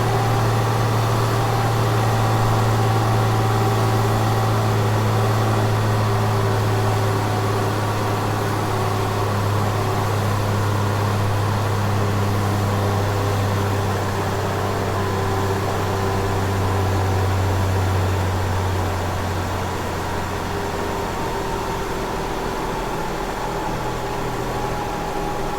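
Ford Escape engine running at a high idle from a throttle valve not returning, a loud, constant drone with a steady low hum and broadband whir held evenly for about twenty-five seconds, with no voices.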